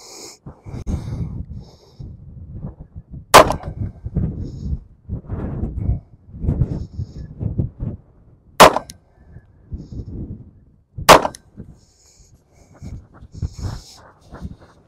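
A compact S&W Bodyguard 2.0 pistol fires three sharp, loud shots at 7 yards, spaced several seconds apart, with a quieter shot-to-shot gap between the last two, over heavy breathing and rustling.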